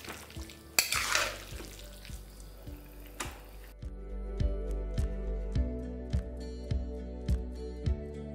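A spoon stirs a mixed winter vegetable curry after fried peanuts and ghee are added, with a burst of sizzling early on, then a regular rhythm of scraping strokes and taps against the pan.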